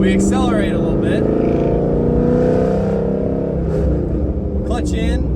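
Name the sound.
manual car accelerating in first gear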